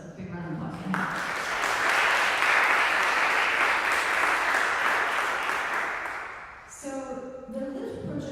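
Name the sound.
audience applause at a recital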